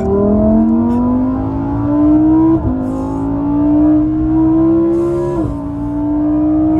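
A Lamborghini Huracan EVO Spyder engine revs loudly and steadily, its pitch climbing through gears with brief drops at each shift, a throaty roar close by.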